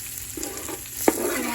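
Shrimp cooking in a pan on low heat, a soft steady sizzle with faint crackles and one brief sharper pop partway through.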